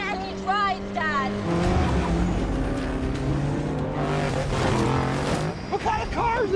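Several cars race after a truck in a chase scene, engines roaring loudly and continuously with tire squeals and passing whooshes, mixed with music and effects, and voices speaking over the action.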